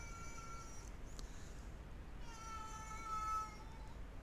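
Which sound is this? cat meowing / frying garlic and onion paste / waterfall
cat meowing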